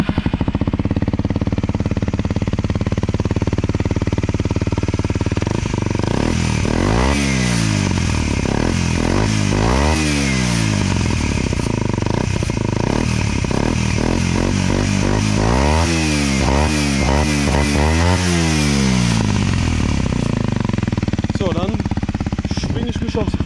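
A Kawasaki Z125 motorcycle runs steadily from a cold start with a buzzing engine note throughout, rising and falling with several blips of the throttle; a voice can be heard faintly underneath.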